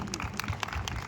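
An audience claps continuously at a live singing event for Dr. Babasaheb Ambedkar Jayanti, a steady, fairly faint patter of many hands with no talking over it.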